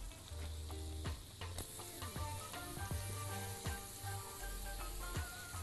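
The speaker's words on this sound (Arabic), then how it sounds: "يلا نسيح الزبده دي مع الثوم" Cubes of butter melt with garlic in a pan for a shrimp pasta dish, a quiet, steady sizzle broken by occasional taps and scrapes of stirring, with no voices.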